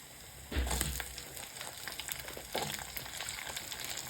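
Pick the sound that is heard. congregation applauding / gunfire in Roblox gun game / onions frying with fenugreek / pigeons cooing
onions frying with fenugreek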